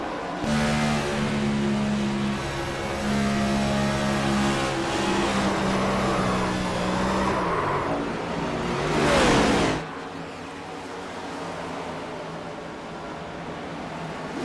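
A race car engine in a Las Vegas racing video game, heard from the in-car view, drones and revs steadily at high pitch, shifts tone several times, then drops to a quieter hum near the end.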